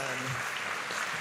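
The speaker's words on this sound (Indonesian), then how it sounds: "Mereka tepuk tangan." A church youth service audience gives a big hand, a dense wash of clapping filling the short moment at steady loudness.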